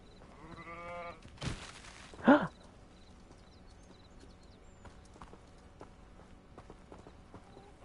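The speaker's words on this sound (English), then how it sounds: "There's a goat there." A goat bleating in Hogwarts Legacy, a single wavering bleat heard nearby early on, followed by a louder sharp cry and then quiet ambient game sounds with faint clicks.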